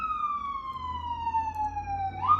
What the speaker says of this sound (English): I do apologize for the ambulance.